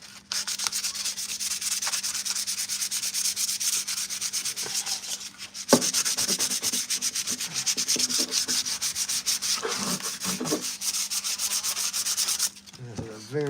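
Filler primer on a Jedi Temple Guard helmet being sanded by hand: steady, close, rasping back-and-forth strokes that pause briefly midway and stop near the end.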